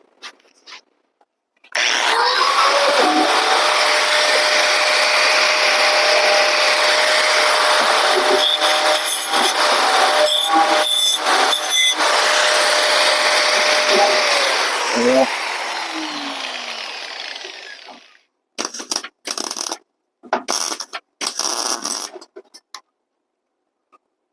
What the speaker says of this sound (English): I need to take a little grinder and grind that just a little bit